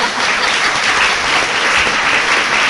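Loud, dense applause from a French-speaking audience at a teaching lecture, continuous clapping with no break throughout.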